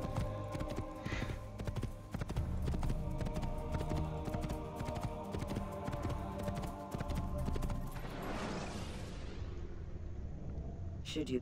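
Horse hooves clip-clop in a steady rhythm, close and clear, over Assassin's Creed game ambience, with a horse whinny and a swooshing sound near the end.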